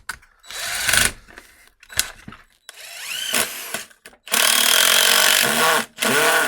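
An impact driver fitted with a DeWalt impact clutch bit holder drives a screw in several bursts of differing length, each a loud whirring spurt, with short pauses between them.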